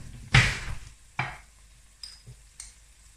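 Mince frying in a pan for a curry, with spices being added, gives a few separate bursts of sizzle and stirring. The first burst is loud and broad, and quieter scrapes and sizzles follow with gaps between them. No one speaks.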